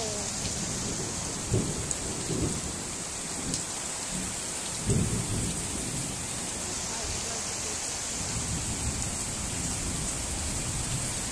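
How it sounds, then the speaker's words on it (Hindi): Heavy rain pours steadily in a dense hiss during a flood in Agartala, with rushing floodwater and occasional low rumbles underneath; a voice speaks faintly at times. "देखो यहाँ पे बारिश पानी देखो कैसे आ रहा है,"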